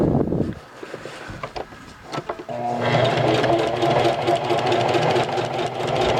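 A sewing machine runs steadily, stitching fold-over elastic onto the corner edge of a hybrid cloth diaper. After a few soft handling knocks, a dense continuous motor whir and needle chatter starts and holds, close and loud.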